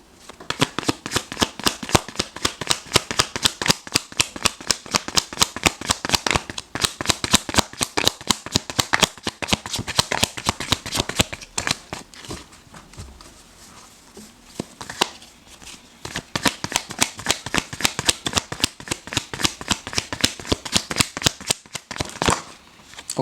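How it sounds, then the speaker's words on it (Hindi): Tarot cards are shuffled close up in a long run of rapid, crisp riffling flutters, pausing briefly partway through before the quick shuffling resumes, with no talk over it. "क्या और 2 कार्ड्स हम निकालते हैं।"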